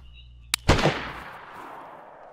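A single sharp crack is followed by a louder, booming report that rings out and decays slowly, like gunfire in the DayZ survival game heard from mid-distance outdoors.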